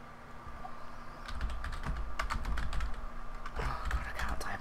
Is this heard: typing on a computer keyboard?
yes